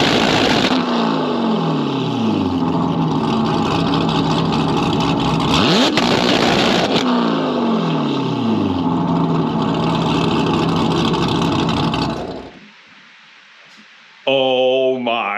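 A tuned car's engine is revved hard from a parking lot, a loud sustained roar for about twelve seconds that then cuts off sharply to near quiet before a brief final burst.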